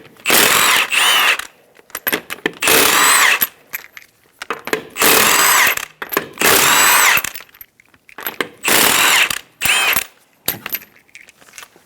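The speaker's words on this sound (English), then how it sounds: "Using a 19mm socket, remove the 5 lug nuts." Power tool spinning off five wheel lug nuts with a 19mm socket on a 2010-2014 Subaru Outback, loud close ratcheting bursts of about a second each, repeated several times with short pauses between.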